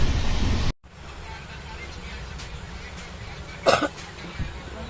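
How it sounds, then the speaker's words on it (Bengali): A single sharp cough close by, after a brief loud burst, over a steady low background rumble. "কাশি রে।"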